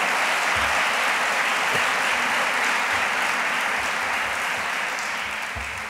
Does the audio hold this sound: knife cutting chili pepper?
no